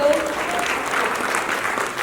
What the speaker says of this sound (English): Big round of applause for the very beautiful